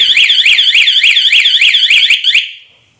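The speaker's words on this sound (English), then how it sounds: "you hit this button, it kills it, sets the alarm off" A youth ATV's kill switch alarm, a loud, rapid electronic warble, pulses steadily for over two seconds, then cuts off and fades to quiet.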